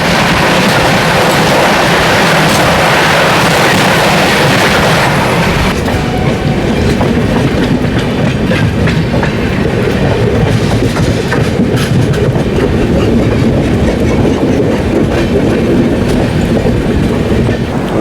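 Neelanchal Express passenger train running on rails, steady loud rumble with rhythmic clickety-clack of wheels over joints, heard from on board throughout without pause.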